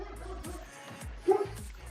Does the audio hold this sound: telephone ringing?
no